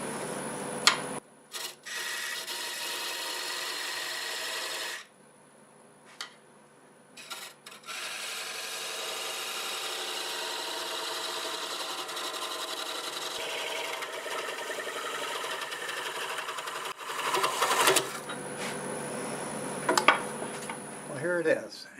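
A wood lathe parts through a turned piece with under half an inch left to cut, a sustained close scraping whir broken by a short pause early on, ending in uneven rougher bursts; some talking is heard.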